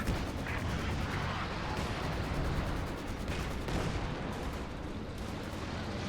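Small-arms fire bouncing off a Soviet ISU tank in Company of Heroes 2: a steady, rapid rattle of distant shots over dense battlefield rumble, continuing without a break.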